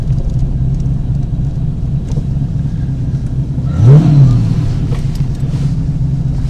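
A TVR Griffith 430 sports car engine hums steadily, then revs up briefly and pulls away, settling back into a low, continuous rumble.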